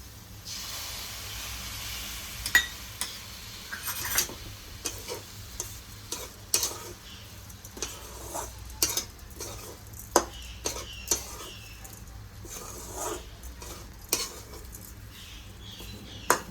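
Saffron-soaked milk and jaggery being stirred together in a pan for rava coconut modak, with soft scraping and clinking of a spoon against the vessel over a faint steady hiss, no talking.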